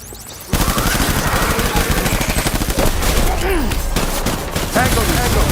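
Sustained automatic gunfire in the video game Death Stranding, loud rapid bursts of shots rattling almost continuously after a brief quieter opening, with dense fusillade texture.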